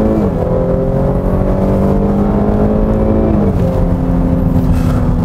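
A Cadillac XT6 engine pulls hard in sport mode, its rising drone dropping at a quick gear change before climbing again, loud and steady inside the cabin.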